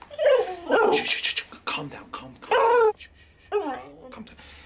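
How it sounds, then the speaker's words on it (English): A dog in a hospital drama scene gives sharp barks, yips and whimpering whines in close, loud bursts, with someone hushing it between the sounds. "A bloody dog!"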